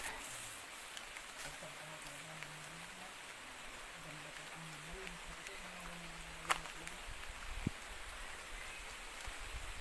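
Steady light rain patters all around, soft and even, with a faint low hum and an occasional drip.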